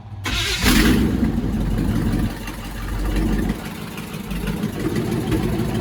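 An engine turns over and catches after the fuel pump is primed, then settles into a steady, rumbling idle close by, with slight shifts in pitch as it runs.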